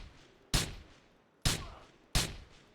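Three loud gunshots spaced about a second apart in GTA 4 video game, each a sharp crack with a short echoing decay.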